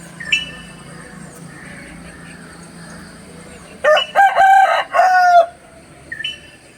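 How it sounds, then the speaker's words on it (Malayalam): On a morning at home, a nearby rooster gives one loud crow lasting over a second, with faint bird calls and quiet background ambience before and after. "കോഴിയുടെ ശബ്ദം, എല്ലാ ശബ്ദങ്ങളും ഉണ്ട്."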